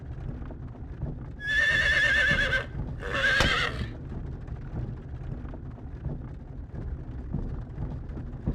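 A wagon horse whinnies twice, loud and close, over steady hooves and rumbling wheels as it pulls away in the video game Star Ocean: Till the End of Time, with a low storm-like rumble underneath.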